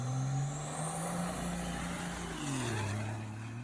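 A triple-turbo 12-valve second-generation Cummins diesel truck launching, a loud sustained engine drone with a whining tone that climbs, holds and then drops in pitch, heard from a distance with no voices.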